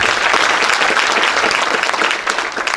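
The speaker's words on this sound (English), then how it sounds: "I would like us to applaud. Let us clap for our ambassador." Dense audience applause at a university public lecture, loud and continuous throughout with no pauses.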